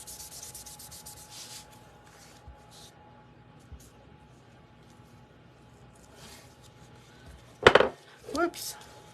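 A paper card is rubbed down firmly to flatten it, a quiet scraping that runs faintly for seconds before two louder, short rubbing strokes close by near the end.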